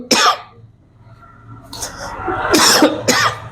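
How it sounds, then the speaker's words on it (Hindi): Several sharp coughs: one burst near the start, then a cluster of harsh coughs a second later, fairly loud and close, with no talking. "खांसी ज्यादा कैसे लग गया हमको"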